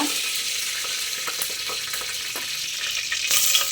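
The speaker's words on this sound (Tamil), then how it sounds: "இங்கே எண்ணெய் காஞ்சிருச்சு நம்ம தாளிப்பு பார்த்துடலாம் கருவேப்பிலை போட்டுக்கோங்க" Curry leaves tempered in hot oil for a cauliflower curry, giving a steady close, loud sizzle and crackle that flares louder near the end, with no talking.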